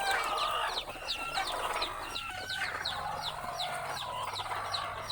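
Small chickens on a Thai village farm cluck and chirp in a steady, overlapping flock, close and lively throughout.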